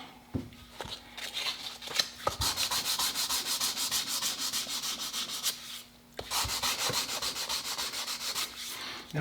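Close, steady sanding of a walnut rifle stock with a hand-held walnut sanding block, rhythmic raspy back-and-forth strokes running almost continuously with a short pause midway.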